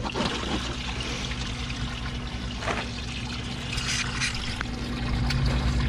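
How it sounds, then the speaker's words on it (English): A backyard drainage pump pushes water through a 2-inch line, giving a steady, close rushing and gurgling flow under a low mechanical hum, with the water growing slightly louder toward the end. "You can see that pump kick on, and it easily keeps up with this flow, no problem."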